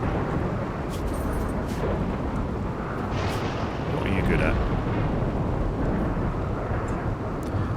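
A rainy thunderstorm in the colony game RimWorld rumbles as a heavy, continuous low roar with a steady wash of rain, while a voice talks over it.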